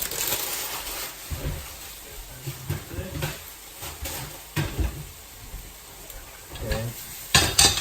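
Bagged stir-fry vegetables and canned sweet corn tipped into a hot pan with turkey mince, giving scattered crunchy rustles, soft clatters and a low sizzle, with intermittent talking over it.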